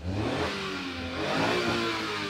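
A multicab's engine revs up steadily with a rising mid-pitched drone, loud and close, with no talk over it.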